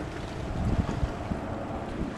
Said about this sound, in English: the New York Fire Department utilizes a fleet of fireboats to tackle blazes on land, along the shoreline, and in water.